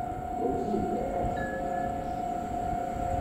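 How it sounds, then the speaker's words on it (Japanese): A Meitetsu train rushes through Shinkawabashi station on the Nagoya main line without stopping, a steady loud rumble of wheels on rails with a sustained high whine and a brief squeal, close to the platform. "通過電車です。"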